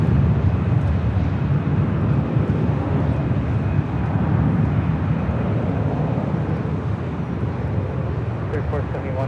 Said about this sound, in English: This arrival is Air Canada 552 coming in from Vancouver on a 737 MAX 8